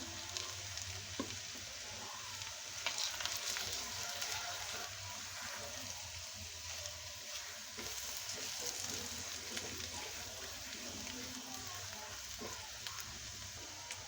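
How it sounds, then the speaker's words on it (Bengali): A homemade spice mix fries in a pan with a soft, continuous sizzle and crackle, faint and steady throughout with light stirring noises. "তো এই মশলাটা ভালো করে ভাজা হয়ে গেছে।"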